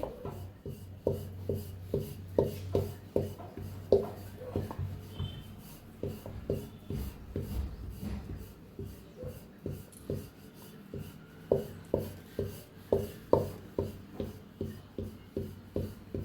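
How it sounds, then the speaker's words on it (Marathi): A wooden rolling pin rolling chapati dough on a board, steady rhythmic rubbing strokes repeating about twice a second, fairly close and quiet, with no talking. "काट काट लाटायची म्हणजे चपाती छान फुगते"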